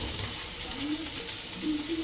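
Prawns frying in a pan with raw onion, turmeric and chili powder, a steady close sizzle with light stirring scrapes, no talk.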